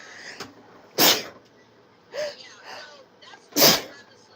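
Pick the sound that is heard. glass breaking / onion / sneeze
sneeze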